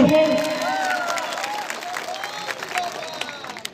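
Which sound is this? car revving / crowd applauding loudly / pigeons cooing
crowd applauding loudly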